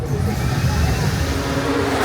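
A loud, steady car engine roars close by at the 2024 Miami Grand Prix, droning continuously for a couple of seconds with slight rises in pitch.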